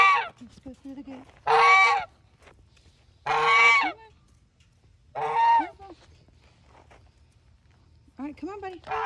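In a barn at night, a goose gives a series of loud, nasal honks close by. Four bursts are spaced a couple of seconds apart, and the last one trails into a quieter, broken call.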